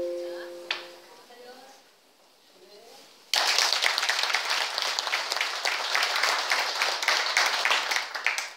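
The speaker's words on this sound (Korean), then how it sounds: "박수도 조금 많이 쳐주시기 바랍니다" Audience applause breaks out at a silver choir concert, a dense, loud burst of many hands clapping that starts abruptly and continues steadily after a quiet stretch with a brief tone.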